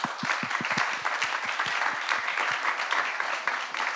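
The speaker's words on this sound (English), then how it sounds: "Little round of applause to our guests" An audience applauds guests at the end of a sync education talk, with dense, steady clapping close by and lasting throughout with no gaps.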